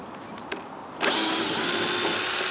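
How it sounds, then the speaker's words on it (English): A power drill countersinks a screw hole in matai timber flooring, starting abruptly after a faint click and then whirring loudly and steadily up close at high speed. "I'll just give that a bit of a countersink."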